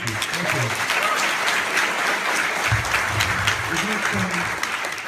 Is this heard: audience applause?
yes